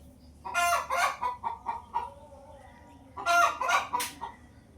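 Chickens cluck in short bursts, then a rooster crows in a loud drawn-out call near the end, close by with no talk.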